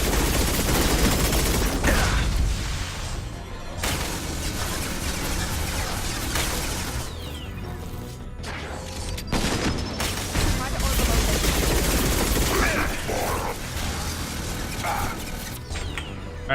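Dense, continuous gunfire from weapons in the Mass Effect 2 video game, sustained bursts and fusillades with heavy booms throughout, loud and close, with a few short breaks between volleys.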